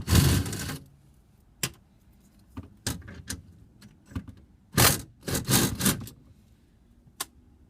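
Tools work at 10mm bolts on a car battery compartment cover, giving close, sharp bursts of ratcheting and metallic clicks and scrapes separated by quiet pauses.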